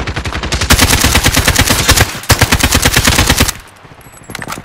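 Sustained automatic gunfire in Call of Duty: Modern Warfare, loud rapid bursts of shots with a brief pause midway, then the firing drops off to quieter scattered sounds at the end.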